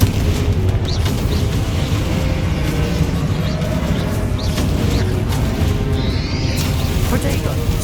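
A Confringo explosion spell cast in Hogwarts Legacy sounds as a heavy, continuous booming rumble of battle effects that fills the whole stretch, with a few whooshing bursts layered on top and no clear pause.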